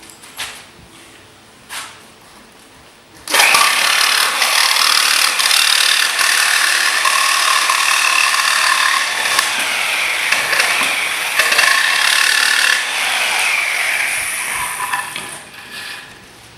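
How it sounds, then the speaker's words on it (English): Wood being sawn to length for a homemade rabbit cage: a steady, loud run of rasping back-and-forth saw strokes lasting about twelve seconds, preceded by a couple of faint knocks. "Now I'm going to come over here and cut it off at the length."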